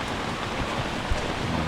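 Steady heavy rain from a typhoon in Bacoor, Cavite, hissing broadband and unbroken, close and loud, falling during an outdoor car repair on a Toyota Avanza; no voices.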